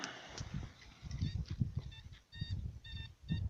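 A metal detector sweeps over a possible buried find, giving short repeated high beeps in several bursts, close by, against low rustling and handling noise in the ground.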